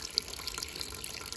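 Holy water runs from a spring at Skalka with a soft, steady splashing trickle, faint and close, with no voices.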